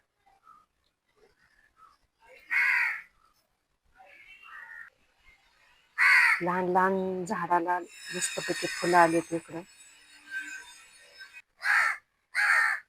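Several harsh crow caws ring out in short bursts, alternating with someone talking nearby in a quiet outdoor setting.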